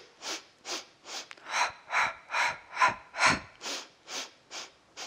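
Rhythmic breathing during a Pilates full-body exercise with weighted balls, about a dozen forceful breaths in and out at a steady pace, close and clear with no talk.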